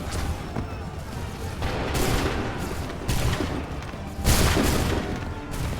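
Musket volleys ring out in a battle in the Assassin's Creed 3 video game, several loud, booming bursts a second or so apart over a constant noisy din of combat.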